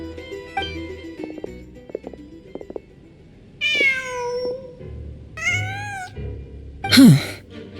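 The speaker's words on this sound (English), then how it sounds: "Just a cat." A cat in Genshin Impact meows three times, drawn-out and clear, with the last call the loudest, over a quiet game background with faint soft tones.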